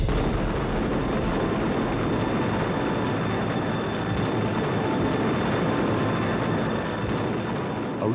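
Distant naval gunfire from British dreadnought battleships opening fire at a range of almost seven miles, heard as a continuous heavy rumble of booming shots blending into a dense, roaring wash without clear pauses.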